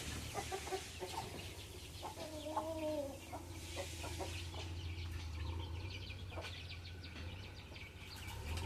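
A grey hen clucks repeatedly in a rhythmic, insistent cackle outdoors just after laying an egg, with other birds chirping faintly in the background and a low steady hum.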